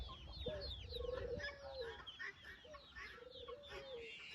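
A rooster crows twice in drawn-out calls at dawn against a busy background of chickens clucking and other birds chirping, at a moderate distance.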